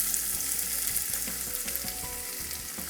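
Two medium chopped onions fry in spiced oil for a Lahori chicken curry, a thick, close, even sizzle with light stirring taps and scrapes running underneath, steady throughout with no talking.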